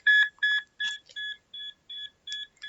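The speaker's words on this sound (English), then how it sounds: "The sound of alarms going off in your own room begins to fade into the distance" Hospital room alarms beep as a podcast sound effect, a string of about eight electronic tones in a regular rhythm, the first few doubled and overlapping, clean and close with no talk.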